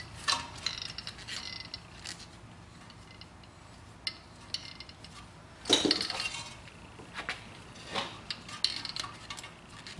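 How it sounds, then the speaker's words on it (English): A brake caliper piston on a 2006 BMW 330i E90 is pressed back with a compression tool, producing quiet, irregular ratcheting clicks and metallic clinks, with one sharper clank partway through. "So all I'm going to do is compress this piston back."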